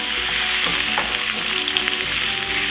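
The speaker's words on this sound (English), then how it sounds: "Add the onion and garlic, hot pepper. Give it a stir" Onion, garlic and hot pepper hit a pan of hot oil and are stirred, producing a loud, dense, continuous sizzle with scraping stirs, close up and without speech.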